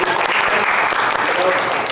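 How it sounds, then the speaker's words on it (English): A room full of people clapping for new members at a business mastermind meeting, steady and fairly loud for the whole stretch without a break. "Round of applause for the newest members of the IE."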